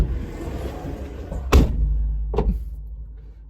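A car is unlocked with a remote button, giving a sharp thump of the lock mechanism followed a moment later by a second, softer clunk over low background rumble.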